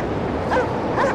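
A dog yips twice in quick succession in the video game Cryostasis, two brief whimpering barks heard over a low, steady background hum.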